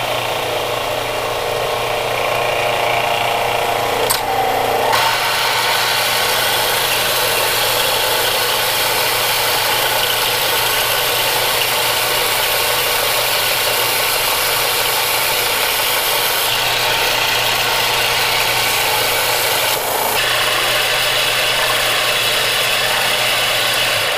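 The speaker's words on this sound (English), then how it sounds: "I'm gonna sand down this edge and this edge to round it off" Edges of a wooden swimbait being sanded with a power sander, a loud continuous whirring drone with steady grinding rasp that briefly cuts out and resumes.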